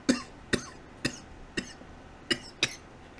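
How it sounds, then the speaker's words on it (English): A man coughs six times in a steady, evenly spaced series of harsh, chesty bursts, close and moderately loud, with no talking between them. "While I cough up a lung"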